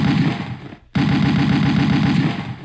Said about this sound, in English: you basically hear a gunshot, that is a bullet flying through the map